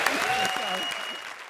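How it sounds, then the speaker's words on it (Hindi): A studio audience at a stand-up comedy show claps steadily in a dense burst of applause, with a voice faintly audible underneath. "ज्यादा तालियां बजाओ।"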